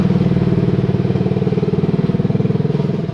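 An old motorcycle engine, decades old and worn, idling steadily nearby with a continuous low, pulsing throb and light rattling clatter, heard alone without talk.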